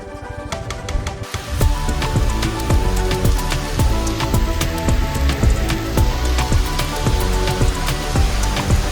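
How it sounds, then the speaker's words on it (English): Rain falls at a hill station in Maharashtra, with large drops pattering close by in an irregular, fast rhythm against a continuous wet hiss, loud and without voices. "It started raining properly"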